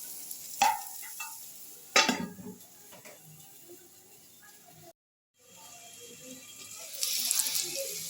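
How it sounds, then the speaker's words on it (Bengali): Potatoes fry in a covered pan for a traditional Bengali pui shaak chochhori, with a steady soft sizzle broken by a few sharp utensil and lid clatters near the start and a brief silent gap midway. "দেখো আলুটা একটু ভাজা ভাজা হবে, তার জন্য আমি আলুতে একটা ঢাকা দিয়ে দিচ্ছি"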